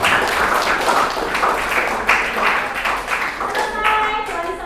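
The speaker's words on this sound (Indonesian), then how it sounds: "Tepuk tangan untuk kalian semua." A class of students clapping together at the end of a lesson, brisk overlapping claps with a slightly rhythmic, patting feel, steady and close throughout, with faint voices mixed in near the end.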